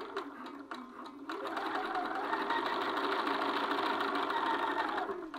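A sewing machine runs steadily as it stitches a seam on a garment's neckline or hem, a close, even whirring that starts after a few brief taps and continues without a pause.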